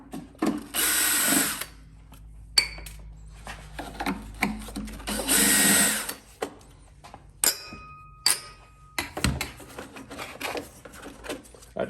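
A power driver whirs in short bursts backing screws out of a Stihl BR 700 backpack blower cover, interspersed with clicks, rattles and handling noises of parts and screws, close.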